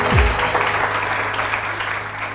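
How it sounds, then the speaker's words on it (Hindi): A studio audience on a TV morning show claps steadily, with a dense, moderately loud round of applause that eases off slightly toward the end. "मिसेस खान के लिए बहुत सारी तालियां जी"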